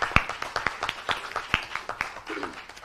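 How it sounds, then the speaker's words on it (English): Audience clapping at a national conference on lesser-known species and conservation, a scattering of sharp, uneven claps from a modest crowd, fairly close and steady for a few seconds, with no one talking. "So big applause to all the participants."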